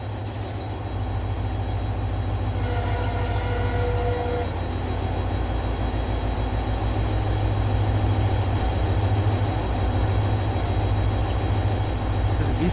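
A coupled pair of WDG4D diesel locomotives hauls a train in a rail simulator game, with a constant heavy engine drone and a brief tonal horn-like burst early on, otherwise steady and unbroken.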